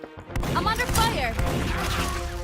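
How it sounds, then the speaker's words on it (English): Gunfire and battle noise in a Source Filmmaker animation, a dense loud clatter of shots and impacts running through most of the stretch while a voice shouts over it. "I'm under fire."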